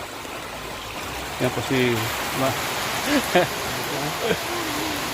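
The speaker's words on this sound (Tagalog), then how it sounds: "Inabutan po kami ng ulan dito." Rain pours steadily in the mountains in a constant wash of patter while people talk over it, their voices close above the downpour.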